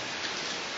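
Light drizzling rain falls at night toward morning, an even, faint broadband hiss with no distinct drops, steady throughout and with no talk.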